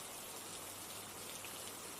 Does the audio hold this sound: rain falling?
yes